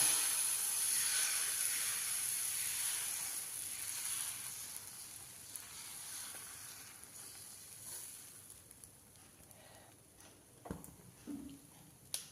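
Chili dosa batter sizzles on a hot pan as a steady, fairly loud hiss that slowly fades, with a few soft clinks toward the end.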